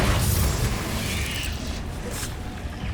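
A Confringo fire spell bursts in the video game Hogwarts Legacy, a fiery blast with a broad whooshing crackle that fades over about three seconds, loud and alone.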